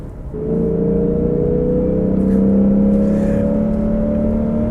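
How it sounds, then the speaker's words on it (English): The V8 engine of a 2022 Lexus IS 500 drones steadily while driving, its pitch slowly climbing as it pulls, loud and close with a smooth continuous tone. "There's so much charm to this motor with this sound it makes"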